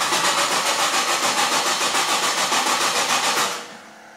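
An LS1 V8 with its fuel pump relay pulled cranks with a fast, even, pulsing whir for several seconds, fails to catch, and winds down into quiet, close and loud.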